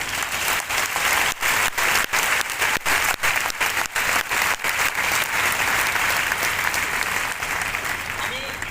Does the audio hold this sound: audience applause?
yes